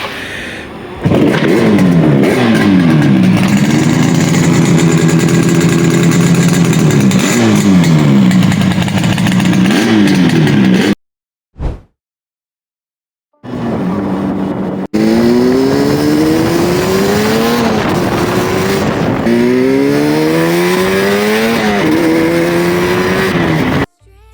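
A Yamaha RD 350 two-stroke motorcycle from the 1970s-80s revs its exhaust loudly and up close, rising and falling in repeated blips and pulls, with a short break and then more revving.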